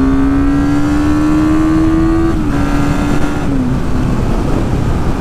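A Triton four-cylinder quad engine runs loud and steady close by, its idle tone holding even before dipping slightly twice as the revs shift, with no talking over it.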